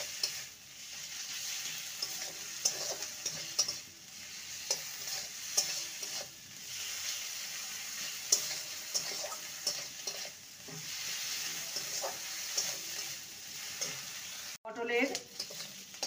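Tender pointed gourd pulp fries in a pan with a soft continuous sizzle, broken by repeated spatula stirs and scrapes. Close and moderately quiet, with a brief clatter near the end.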